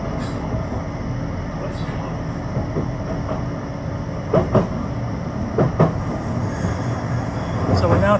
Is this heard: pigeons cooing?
no